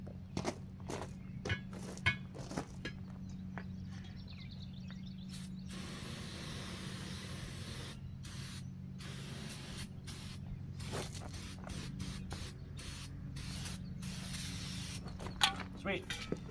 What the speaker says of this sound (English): I need to spray inside the tire, which is going to be a pain.